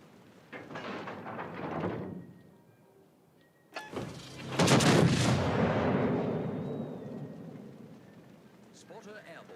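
Naval gun volley in a warship video game, deep booming blasts followed by a long rumbling roll, with a softer boom earlier and a voice faintly audible.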